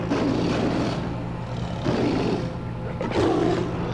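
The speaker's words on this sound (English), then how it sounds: "I hear another one of those tigers." Tigers roaring and fighting in the caveman-era game Far Cry Primal, several loud growling roars in surges, one near the start, another around two seconds and a strong final burst, over a steady low rumble.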